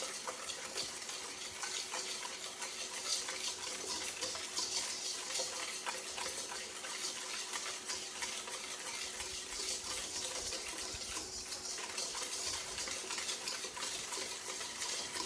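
Eggnog mixture being stirred in a bowl, with a soft continuous swishing and faint clinks of a utensil, fairly quiet and steady throughout.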